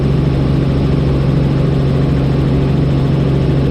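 Helicopter engine running steadily during a training flight, a loud continuous low drone with a strong hum and rotor beat, heard from inside the aircraft with no talking.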